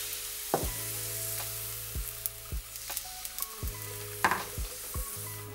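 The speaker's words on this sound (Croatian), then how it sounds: "na vrelu tavu bacamo ovo naše tijesto da bi dobili fine palačinke" Pancake batter hits a hot, lightly oiled pan, giving a steady close sizzle with repeated soft scrapes and taps from a utensil at a regular pace, with no voices.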